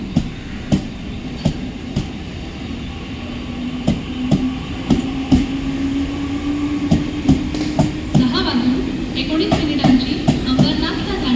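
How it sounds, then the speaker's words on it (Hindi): Mumbai slow local train bound for Parel pulling into platform 2 of a busy station, with a rhythmic clickety-clack of wheels, a steady rumble and a faint wheel squeal building as it nears, with voices over it. "10:28 की परेल जाने वाली धीमी लोकल थोड़े ही समय में प्लेटफॉर्म क्रमांक 2 पर आ रही है।"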